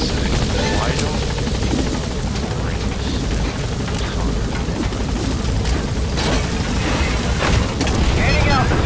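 A helicopter climbs in Metal Gear Solid V: The Phantom Pain, its loud, steady rotor and engine roar filling the whole stretch, with faint voices beneath.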